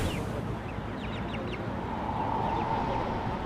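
Squawking bird calls from the VR game I Am Bird, a few short quacking, duck-like cries over a steady rumbling game background, moderately loud with no talking.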